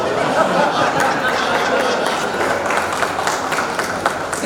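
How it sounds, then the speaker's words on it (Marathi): Audience applause at a poetry reading during a literary conference, a steady dense wash of clapping and crowd chatter held at even loudness for several seconds. "तुम्ही टाळ्या वाजवल्या"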